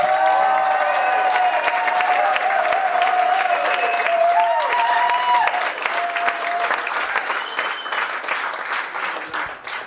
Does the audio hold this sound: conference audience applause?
yes